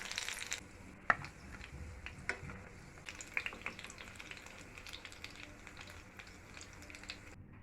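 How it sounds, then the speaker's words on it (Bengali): Chicken pakoras frying in hot oil, a quiet, steady sizzle with a few brief crackles and pops, heard alone at low volume. "দুপাশ খুব ভালোভাবে ভেজে নিব। পাকোড়াগুলো আমি গোল্ডেন কালার করে ভেজে নিয়েছি।"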